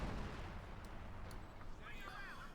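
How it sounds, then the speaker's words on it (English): Distant rumbling artillery barrage from American guns in Company of Heroes 2, a dense continuous roll of booms and crumbling debris as a house collapses, fairly faint and low. "House collapses under withering American artillery fire."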